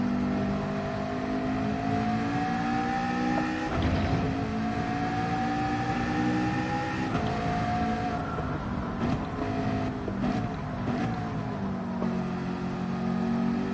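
Race car engines in Gran Turismo 7 drone and whine continuously, the pitch rising and shifting as the cars accelerate and shift gears.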